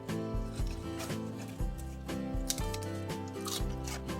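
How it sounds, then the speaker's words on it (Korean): Crisp crunching and rustling of fresh lettuce leaves, repeated every half second or so, quiet and close over soft background music. "아삭아삭 싱싱한 소리 들리시죠?"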